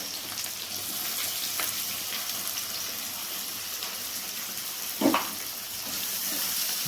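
Onions and torn green chillies frying in mustard oil in a wok give a steady close sizzle throughout, with a few faint clinks and a brief louder scrape of stirring partway through, and nobody talking.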